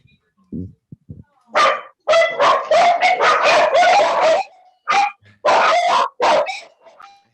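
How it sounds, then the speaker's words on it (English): Dog barking excitedly in a series of loud, close yips and barks that come in rapid bursts with short pauses, heard indoors at a tattoo collector's place. "I hear a dog."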